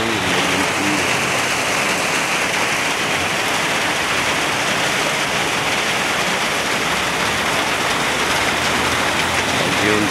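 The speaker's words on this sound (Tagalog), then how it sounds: "Ang lakas ng ulan." Heavy typhoon rain pours steadily during Typhoon Tino in the town of Turiosga, a dense, unbroken roar of water on surfaces that fills the whole stretch at constant loudness.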